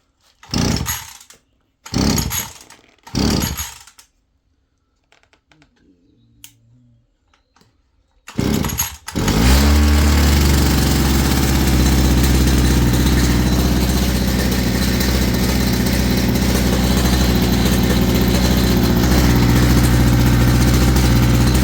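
A Titan strimmer being fixed with a carburettor is pull-started: three or four rasping cord pulls and sputters, a short pause, then the small petrol engine catches and runs loud and steady, close up.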